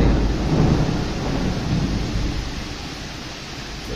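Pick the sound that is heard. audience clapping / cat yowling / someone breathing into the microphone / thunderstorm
thunderstorm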